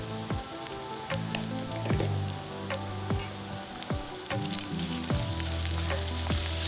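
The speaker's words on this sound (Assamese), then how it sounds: "এইখিনি এতিয়া অলপ ৰঙচুৱা হোৱালৈকে ভাজি ল'ম।" Fish eggs fry in a pan alongside onion and garlic paste, making a loud, continuous sizzle with crackles and spatters. A few sharp knocks of stirring land at regular intervals.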